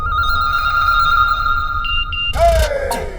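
A telephone rings with a steady, repeating electronic tone in a Hindi movie scene, sounding loud and close for most of the moment before a burst of other sound cuts in near the end.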